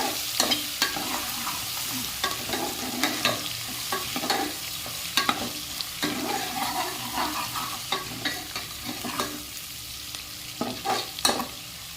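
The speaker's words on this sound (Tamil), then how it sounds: "நம்ம ஒரு மீடியம் சைஸ் வெங்காயம் வந்து பொடியை கட் பண்ணி வச்சுருக்கேன் அதையும் சேர்த்து நல்லா வதக்கி எடுத்துக்கலாம்" Chopped medium-sized onion with pepper and cumin sizzles steadily in a pan for Milagu Pongal, with repeated scraping stirs of a spoon knocking against the pan throughout and no talking.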